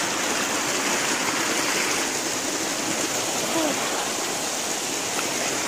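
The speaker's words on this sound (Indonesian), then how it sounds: "Air terjun, air panas." A hot spring waterfall on Mount Gede Pangrango roars steadily and continuously, a broad rushing wash of water with no breaks.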